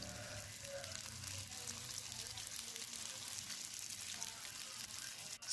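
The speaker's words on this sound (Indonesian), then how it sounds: "masukkan campuran saus dan bumbu tadi" Sauce and spice mix sizzling steadily in a hot pan as it goes into tteokbokki, a soft continuous frying hiss with faint stirring and no talk, ending in a brief clatter.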